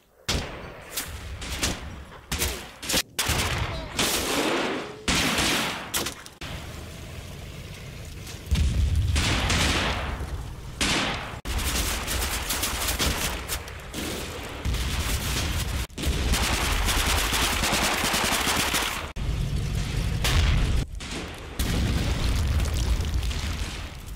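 Bursts of machine-gun fire, rifle shots and heavy booming explosions from armour and infantry platoons in the Combat Mission: Final Blitzkrieg wargame, a loud, dense battle with sharp cracks and rumbling blasts coming in waves.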